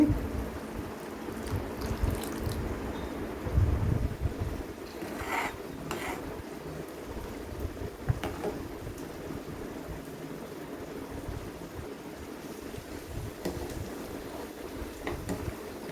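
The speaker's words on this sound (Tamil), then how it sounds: "நல்லா கொதி வர ஆரம்பிச்சிருச்சு" Ladies finger sambar with tamarind water boiling in a pot on the stove, a steady low bubbling and simmering rumble that runs continuously throughout, with no talking.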